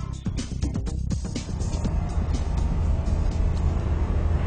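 A Transition flying car driving on a road, giving a loud, steady engine and road drone that stays close and continuous throughout, with no talk.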